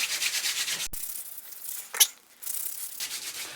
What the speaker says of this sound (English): If you feel like you need a bit more grit, grab a bit more sugar and just rub that in.